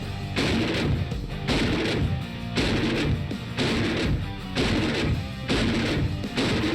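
AK-50 rifle fired from a bipod in a kneeling position, loud heavy booming shots repeating roughly once per second with a deep chunky report and short decay between blasts.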